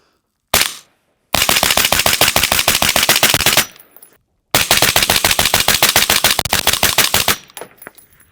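Two long, fast bursts of rapid gunfire are fired through a short Radical Defense CS5 suppressor. Each string of closely spaced reports is loud and close and runs a few seconds, with a brief pause between the bursts and quiet ringing after each.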